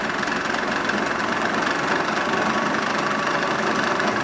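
A 1983 Harley-Davidson FXRT with an 80ci shovelhead engine after a top-end rebuild idles steadily and loudly, its even rumble continuous and close with no voices.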